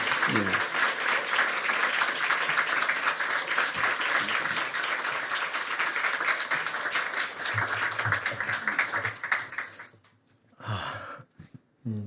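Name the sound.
congregation applauding as pastor comes forward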